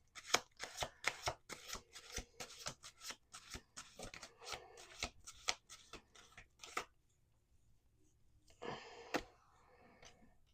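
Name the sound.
shuffling tarot cards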